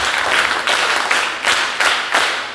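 Close bursts of group clapping from a seminar audience come as about five quick, dense rounds in a steady rhythm, each swelling and dying away before the next, with no talk in between.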